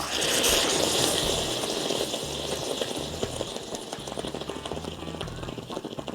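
Water heating toward a boil in a titanium cup at a winter campsite, a steady bubbling, hissing wash that runs continuously at close range with no one talking over it.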